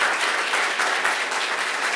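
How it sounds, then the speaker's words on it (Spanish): Applause welcoming a speaker at a retail business talk, a dense, steady wash of many hands clapping at once, full and even throughout, with no voices heard. "La bienvenida con un fuerte aplauso a Patricia."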